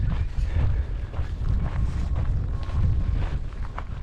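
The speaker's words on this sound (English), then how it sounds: "Hopefully you can hear me alright without the bloody wind" Wind buffets a microphone outdoors by the Hayle estuary, a steady low rumbling roar that swells and eases throughout, loud and close, with no talk.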